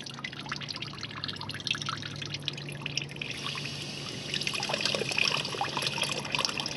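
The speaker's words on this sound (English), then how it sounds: "We've seen a little clear water coming out at the end." Water trickles and drips steadily close by as coolant drains from an LT1 small-block Chevrolet radiator onto a driveway, a thin splashing stream that grows a little louder toward the end.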